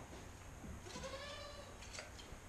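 A sheep gives a faint, thin bleat during hand shearing in a barn without electric clippers, a single brief call over a steady low background hiss.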